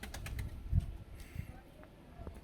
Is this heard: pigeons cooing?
yes